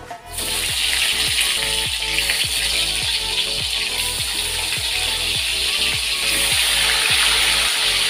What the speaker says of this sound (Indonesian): Kita goreng cabenya teman-teman buat sambal ya